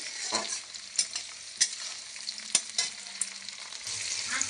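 Onion and tomato frying in a pan while being stirred, a continuous close sizzle broken by repeated scraping clicks of the spoon, with no voices.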